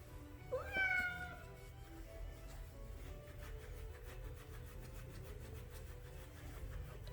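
A cat being groomed with glove wipes gives a short meow near the start, then a soft, continuous low purr runs steadily underneath, close and quiet.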